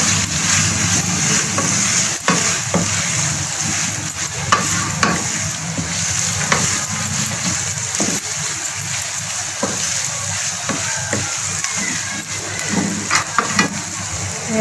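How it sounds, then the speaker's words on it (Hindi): Spices with vinegar, black pepper and red chilli powder frying in a pan for vegetable fried rice, a loud continuous sizzle broken by repeated sharp scraping clicks of a spatula. "इसको हल्का सा फ्राई कर लेंगे ताकि मसालों का कच्चापन खत्म हो जाए।"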